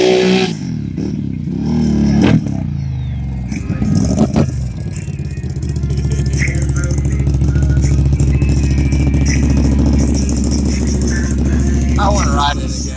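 A Can-Am Renegade 1000R quad's engine rattles and revs up close, then settles into a loud, steady drone, with people talking over it.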